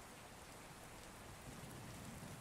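Rain falling in a steady, soft hiss, a continuous even wash of drops at low volume with no voices.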